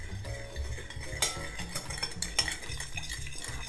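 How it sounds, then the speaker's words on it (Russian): A spoon scrapes and clinks around a bowl in quick, irregular strokes, stirring sunflower oil dressing for a potato, herring and pickle salad, close by and fairly quiet, with no voices. "Наливаем сюда и размешиваем."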